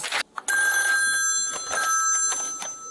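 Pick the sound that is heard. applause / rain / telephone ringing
telephone ringing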